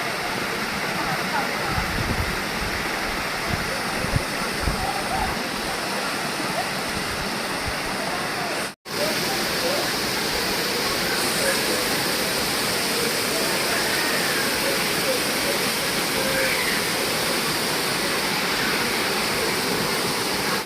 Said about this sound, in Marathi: आणि मेनी वॉटरफॉल इकडे आहे मित्रांनो